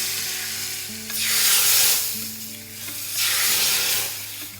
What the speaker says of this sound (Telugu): తాలింపుని పచ్చిపులుసులో వేసేసుకోవాలి